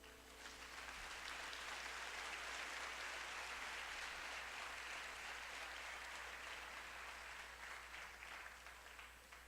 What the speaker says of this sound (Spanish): Le doy un aplauso a Cristo.